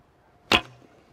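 A single arrow leaves a 50 lb Alibow Kheshig bow with a crisp, loud string snap and a short ringing decay, then quiet outdoor air.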